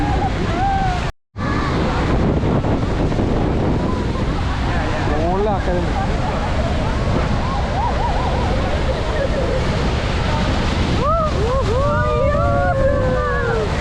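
A loud, constant roar of rushing water at Niagara Falls mixes with buffeting wind from a boat in the spray, while several voices shout and exclaim over it.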